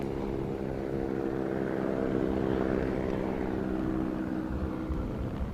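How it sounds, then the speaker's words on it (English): A helicopter flies over a gravel rally stage near a quarry, giving a loud, steady rotor and engine drone that swells gently and holds throughout. "Beautiful shots from our helicopter today."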